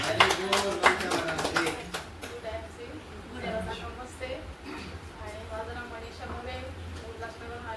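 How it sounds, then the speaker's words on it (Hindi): An audience applauds at a business meeting, a burst of loud clapping that fades after a couple of seconds into background chatter and talk. "जोरदार ताली होनी चाहिए."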